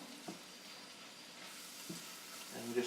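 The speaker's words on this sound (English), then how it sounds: "Stir it, try to keep it all in the pan." Corn frying with bacon in a pan, soft continuous sizzling with occasional spoon knocks as it is stirred, fairly faint and steady.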